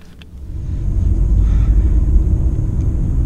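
A 2023 Skoda Octavia with a 1.0 e-TEC 110 HP engine and DSG gearbox gives a deep, steady road and engine rumble that swells in after a quiet start and then holds, heard from inside the car.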